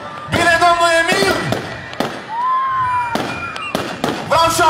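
Fireworks burst in a rapid series of loud booms and crackles, with whistling rockets rising between the explosions, fairly close, at a village day celebration in Glodeni, 2022.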